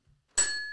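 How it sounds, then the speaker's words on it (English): A small hand bell struck once, a bright ringing tone with sharp onset that sustains and slowly fades, heard up close in a quiet room. "what are we going to do with this bell?"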